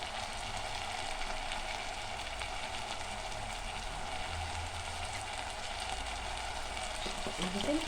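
Duck stuffing sautés in a pan, a continuous dense sizzle and frying hiss that holds steady and close for the whole stretch, with a few faint stirring scrapes near the end.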